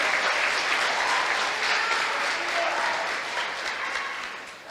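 A church congregation claps together in sustained, dense applause that slowly fades toward the end.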